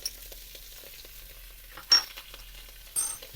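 Onions and minced ginger frying in a pan with mustard seeds, a quiet sizzle punctuated by two sharper pops or stirring scrapes, close and without talk.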